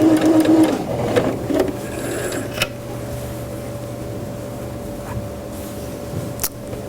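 Sewing machine edge stitching a garment seam allowance without backstitching, a steady mechanical hum and stitching run that is loudest at the start, then fades to a lower drone with a few clicks.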